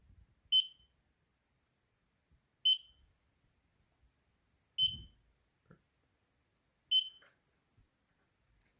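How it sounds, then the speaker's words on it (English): Short electronic beeps from a binary bomb game device sound alone at a steady, slow pace, one roughly every two seconds, with faint clicks and soft handling noise in between. "That's a pretty consistent beeping right now"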